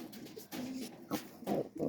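Pigeons coo in soft, low, throaty bursts, several in a row, close by with a faint background hum.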